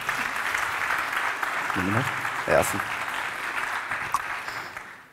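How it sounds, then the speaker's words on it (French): A conference audience claps continuously as a volunteer comes up on stage, a steady crowd of applause with a few brief spoken words heard over it. "Un peu d'applaudissements, quand même, il vient sur scène."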